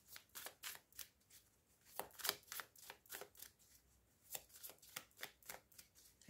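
Playing cards shuffled by hand in repeated riffles, a fast run of crisp flutters with short pauses between them, close and fairly quiet with no talk.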